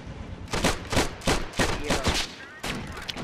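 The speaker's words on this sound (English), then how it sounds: "This autocannon here is starting to fire though" An autocannon and other gunfire in a Plastic Army Men battle video game go off in a rapid string of loud, punchy bursts, several shots in quick succession over a busy battlefield din.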